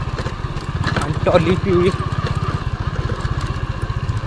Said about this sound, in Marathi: त्यांचंच ही ट्रॅक्टर आहे हा लाल